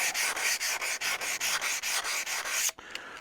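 Steady rhythmic rubbing on a metal part of a Wilton Bullet bench vise, about a dozen close back-and-forth strokes like sanding, stopping abruptly near the end.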